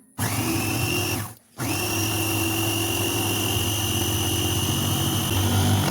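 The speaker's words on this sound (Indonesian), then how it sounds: "Saya menggunakan chopper saja biar cepat. Kita chopper hingga agak sedikit halus ya teman-teman." An electric food chopper whirs steadily as it grinds ginger, a loud, close motor drone that cuts out briefly and then starts again at full speed, with no voices.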